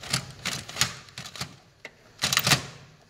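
A printer's paper tray is pushed back into place, giving a quick series of plastic clacks and rattling clicks in several short bursts, close by with no talk.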